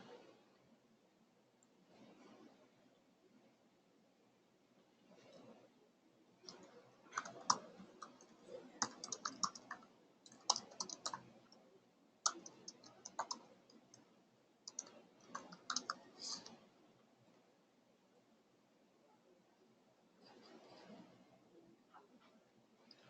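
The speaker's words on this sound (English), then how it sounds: "I can hear him type, though." Faint, irregular bursts of computer keyboard typing heard remotely during an online mobile CRM webinar, clustered clicks coming and going over a quiet background with occasional gaps.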